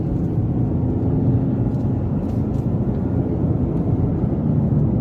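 A Toyota Yaris Cross hybrid's 3-cylinder engine revs to about 4,000 rpm while driving on country roads, a steady low rumbling drone heard from inside the cabin, loud and continuous, with no talk over it.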